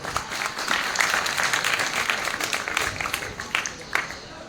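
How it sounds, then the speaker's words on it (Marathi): Hearty applause from an audience at a student awards ceremony, honoring the parents of students who passed 10th grade; dense, steady clapping fills the hall, with a few sharper claps standing out near the end. "आपण आपल्या पालकांसाठी एक जोरदार टाळ्या वाजवायच्या आहेत"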